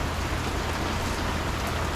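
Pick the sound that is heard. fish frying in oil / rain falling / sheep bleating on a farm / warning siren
rain falling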